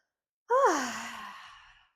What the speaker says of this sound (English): Inhale and then exhale as you stretch.